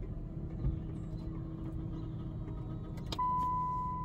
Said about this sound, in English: You should be hearing moving parts, but you shouldn't be hearing clicks and whines and stretching and all that stuff.